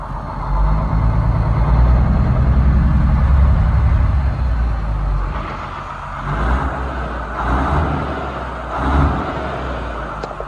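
A rebuilt Caterpillar 3406C diesel engine with a B head and a mechanical fuel pump idles, a loud, deep, steady rumble that eases and swells a few times in the second half, with no talk.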